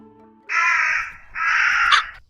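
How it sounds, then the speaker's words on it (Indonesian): A crow gives two long, loud, harsh caws in close succession, used as a sound effect in a high school stage drama of the Indonesian folk legend Keong Mas. "melihat burung gagak yang bisa berbicara dan mengetahui tujuannya"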